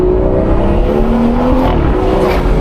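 BMW 440i with a 330 hp engine revving hard in sport mode under manual paddle shifting, a loud, continuous near engine roar whose pitch climbs steadily then dips and rises again, with no talking.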